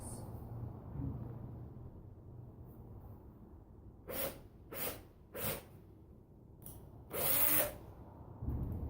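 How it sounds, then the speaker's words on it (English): A power drill whirs in several short, sharp bursts separated by pauses while drilling plastic, the last burst longer, with a low background hum throughout. "Now when drilling plastic, I've found that just short"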